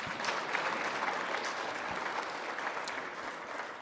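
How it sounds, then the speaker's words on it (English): A standing audience at the official launch of the 2023 Population and Housing Census applauds in a dense, continuous wash of clapping that stays fairly loud throughout, with no voices on top. "Please remain standing and give another round of applause,"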